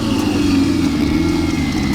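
A Mustang with a hood dump and a serious drag pack rumbles loudly at a street car meet, its deep engine note close by and steady through a short burst.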